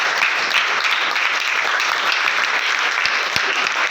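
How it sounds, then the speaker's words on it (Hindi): Classroom applause for a Sanskrit teacher at a middle school in Doranda, a loud, steady burst of many hands clapping together throughout, close by and without talk. "एक बार सर के लिए जोरदार तालियां"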